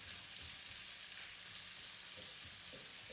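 Meat cooking down in a pan with lard and beef broth, giving a steady, fairly quiet broadband sizzle with a few faint soft bumps, heard alone.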